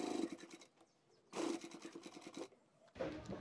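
A sewing machine stitches the collar of a small child's shirt, running in three short bursts of quick, even needle chatter separated by brief pauses.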